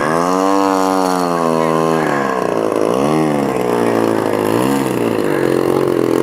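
A model Decathlon airplane with its engine buzzing taxis in on the water at a float fly, the pitch rising and falling with throttle changes, close and loud.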